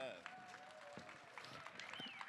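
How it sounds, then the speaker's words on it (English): Scattered, sparse applause from a studio audience greeting a comedy duo, soft and thin with a few claps and murmurs beneath a speaking voice. "That's just the kind of tepid applause we wanted."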